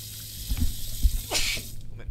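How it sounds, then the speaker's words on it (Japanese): A single sharp, close sneeze bursts out near the end amid a quiet indoor background during a horror video game session. "ごめん、くしゃみした。"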